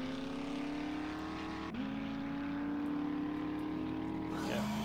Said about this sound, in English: I have to jump down and jump into my car. Which makes a lot of noise.